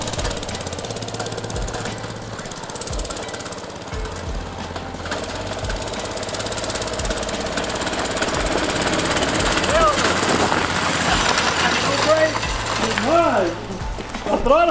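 A 97cc mini bike engine revs hard with a sticking throttle, its buzzing drone rising and surging in pitch toward the end, loud and close with brief dips between bursts.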